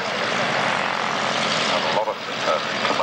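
A commercial helicopter at the Great Warbirds Airshow 1994 at Wroughton Airfield makes a loud, steady engine and rotor roar that fills the whole moment outdoors.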